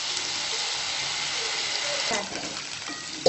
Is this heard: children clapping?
no